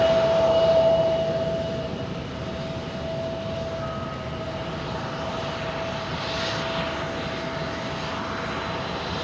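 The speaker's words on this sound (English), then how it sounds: "It's interesting that that little CRJ's running its reversers." A CRJ regional jet running its thrust reversers on the runway, a steady broad roar with a faint whine, heard from a distance and fairly constant throughout; no talking.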